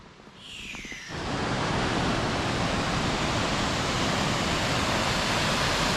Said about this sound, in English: Pretty incredible waterfalls